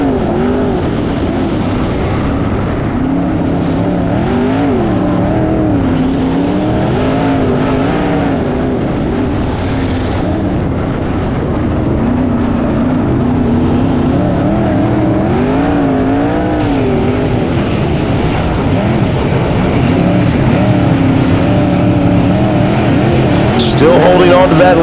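Race cars in a BOSS Series event roar around the track, with a continuous, loud layered engine drone from several cars and shifting pitch, overlaid by steady commentary throughout.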